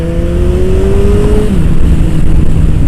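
A motorcycle accelerates hard in second gear at around 3,500 RPM, its loud, close engine roar droning steadily and rising in pitch, then shifting tone partway through against strong wind rush.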